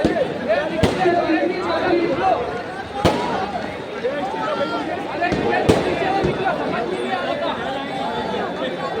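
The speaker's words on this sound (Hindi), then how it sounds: "पटाखेबाजी है, आतिशबाजी है" Firecrackers pop in scattered sharp bangs over a constant crackle of fireworks and the chatter of a crowd at a victory celebration procession.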